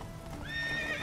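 A horse in the video game Deadlock clip-clops along and then gives a high whinny, fairly faint and close, with no talking.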